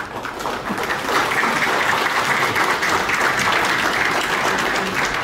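A crowd at a film trailer launch event breaks into loud, sustained applause that swells within the first second and holds steady and close for several seconds.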